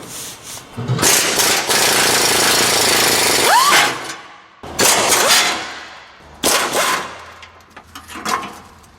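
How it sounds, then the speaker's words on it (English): An impact wrench hammers rusted 12 mm bolts off the front shield of a 2004 Toyota 4Runner, with one long loud rattling burst followed by two shorter bursts close by. "Personally, I like to use an impact for this, mainly because things that are rusted seem to come loose a little bit better with an impact."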